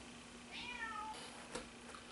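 A house cat lets out a single drawn-out meow at a fairly quiet level, with a soft bump or rustle shortly after in an otherwise calm room.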